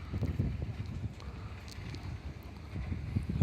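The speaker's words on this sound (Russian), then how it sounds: "на улице ветерок, свежо" Breeze gusting across a microphone at a river port in Yakutsk, low buffeting rumbles rising and falling in uneven bursts, close and moderately loud, with no talk.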